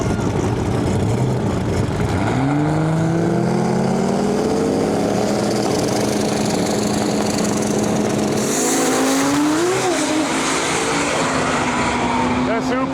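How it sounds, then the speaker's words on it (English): A Toyota Supra and a Fox body Mustang at a drag racing event, loud engines roaring and revving as they launch and run up through gears near 180 mph, pitch sweeping upward with a shift partway through, crowd and track noise beneath. "The Supra spun the Fox body, going on 767 at 180 miles per hour."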